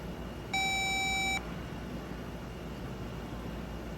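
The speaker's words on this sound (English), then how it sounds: "So we're going to check the continuity all the way through." Continuity tester probe on a Honda Accord wiring harness emits a single steady electronic beep lasting under a second, loud and clear over a quiet background hiss.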